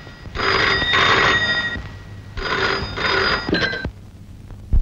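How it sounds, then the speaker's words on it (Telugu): An old landline telephone rings in a room, two double-burst rings in a steady pattern, clear and fairly close, with no one speaking. "ఈ గదిలో ఫోన్ మోగింది"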